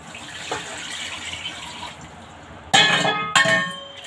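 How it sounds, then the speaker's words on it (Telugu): Water is poured into a pot of bottle gourd curry, a soft gush followed by two louder splashing bursts near the end, with no talking. "ఇదిగోండి ఇప్పుడు నేను దీంట్లో వాటర్ వేస్తున్నాను."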